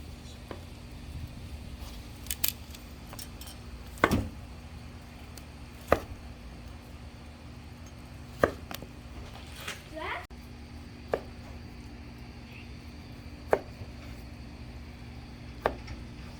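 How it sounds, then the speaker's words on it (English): A knife slices cooked Wagyu picanha into pieces on a board, producing a dozen or so separate cuts at an irregular, unhurried pace, each a short crisp tap over a low, steady background hum. "here we've cut up all the pieces of the Wagyu Picanha"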